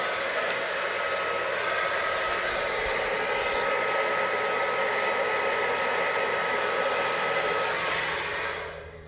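A hair dryer blowing air across a wet acrylic Dutch pour painting, a loud, steady whirring hiss held for about nine seconds before cutting off abruptly at the end.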